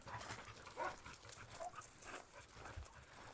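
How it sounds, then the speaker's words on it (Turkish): A Doberman whimpers and whines close by in short, faint, uneven squeaks mixed with snuffling and movement noises, with no voices over them. "Bu hayatımda bunun kadar kuduruk bir köpek görmedim arkadaşlar"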